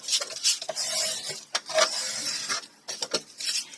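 Dry, brushing scrapes of a hand pressing and burnishing folded sheets of paper, with short rubbing strokes and pauses. The sound is close and fairly quiet.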